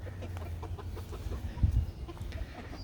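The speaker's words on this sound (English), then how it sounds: "So those are our chickens" Soft, scattered clucks from a few backyard hens sound nearby over a low outdoor background.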